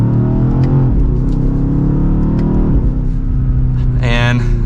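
A 2024 BMW XM Label Red in Sport Plus mode pulls away in second gear under mild acceleration, a steady loud engine drone rising gently, heard from inside the cabin.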